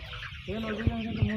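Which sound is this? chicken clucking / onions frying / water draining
chicken clucking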